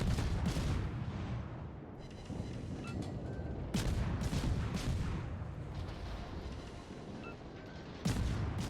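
Naval gunfire from enemy warships in World of Warships, loud overlapping booms and volleys that roll out repeatedly over a constant rumbling background, with sharp blasts near the start, around the middle and just before the end.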